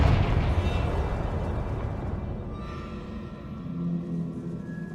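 A fire-blast spell from Hogwarts Legacy erupts in a loud, broad boom that rolls on as a sustained roaring rumble, with a fainter tonal swell near the end.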